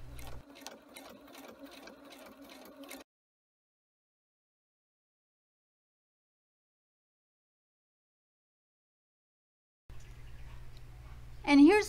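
A sewing machine stitches through cardstock in a steady mechanical run for about three seconds, falls silent for several seconds, then resumes with a low hum and a brief voice near the end.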